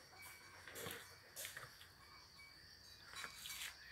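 Chickens kept behind an old rural house give faint, distant clucks in a few brief bursts over a steady hum of crickets and insects.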